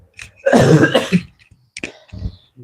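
A burst of harsh, throaty coughing up close, followed after a short pause by a couple more rough coughs and throat-clearing sounds.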